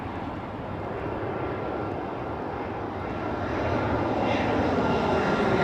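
A Eurowings airliner takes off at Heathrow in high winds, its jet roar building steadily from moderate to louder as it climbs, wind buffeting mixed in.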